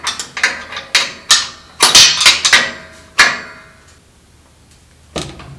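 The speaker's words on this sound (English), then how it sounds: "When the torque wrench clicks, then you're done." A calibrated torque wrench is worked on a boiler fitting in an old house, making a string of sharp, close metallic ratcheting clicks in uneven strokes, then a pause and a single final click.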